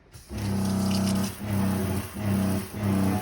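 Water runs steadily from a kitchen sink faucet in a self-built 2015 Ram ProMaster 3500 camper van, a close, continuous gush with a pulsing pump-like hum rising and falling about every second, with no talking.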